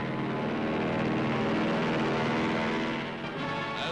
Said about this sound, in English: one bomber after another soars from the flight deck, pointed for Japan